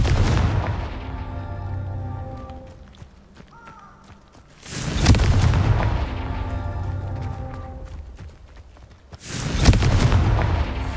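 Fire spell explosions in the video game Hogwarts Legacy boom out as two or three heavy blasts spaced several seconds apart, each a loud deep burst that rumbles and decays, with faint footsteps and effects between them.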